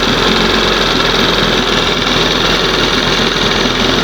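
An old outboard motor with four carburetors runs steadily and loudly, being leaned out, giving a continuous buzzing hum with no speech.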